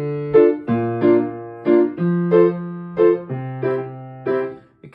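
Piano chords in root position played one after another, eight or so struck chords in a steady rhythm, each ringing briefly before the next, close and clear with no talking.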